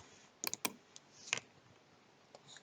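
Keys on a computer keyboard pressed while working in Blender, a few sharp quick clicks in a quiet room, two close together, then scattered lighter taps.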